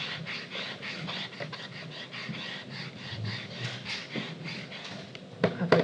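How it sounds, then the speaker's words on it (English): A classroom board being rubbed out with steady, scratchy back-and-forth strokes, fairly close and continuous, with a few bumps and a louder knock near the end. "I'm rubbing out a board while you're doing that."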